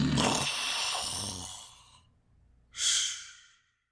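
A voice imitates snoring in a theatrical reading, with a long breathy snore-like exhale followed after a short pause by a second sharp, hissing breath.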